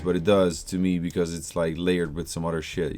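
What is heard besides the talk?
No everyday noises stand out.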